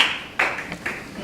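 Scattered clapping from the audience at a fire academy graduation, a few brief separate bursts of hand claps, fairly close and moderately loud.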